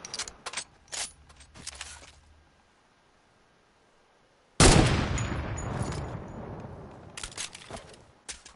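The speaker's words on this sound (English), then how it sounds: "There's a lot of shooting going on" Gunfire in an online shooter game in pairs mode: scattered sharp clicks and short bursts early, a lull, then a sudden loud blast followed by a noisy decaying rush and a few more distant shots, no talking.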